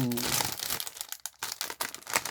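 Crinkly plastic wrapper of a Pikachu-themed vanilla madeleine snack cake being torn open and crumpled, loud and close in dense bursts, with a brief pause midway.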